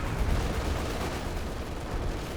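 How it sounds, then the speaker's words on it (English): Base artillery fire in Company of Heroes 2 rumbles as a muffled, low barrage of booms and blasts, steady and moderately loud over a couple of seconds. "Got more base artillery being summoned there"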